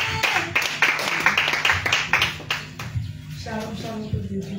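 Congregation at a French-speaking church prayer vigil claps together in a rapid, steady rhythm that is loud and close for about three seconds, then thins into scattered claps with faint voices underneath.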